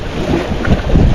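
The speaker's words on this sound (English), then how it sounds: "it's windy" Strong wind buffets the microphone on a tiny rock island in the ocean, a loud, continuous rumbling roar with no voices.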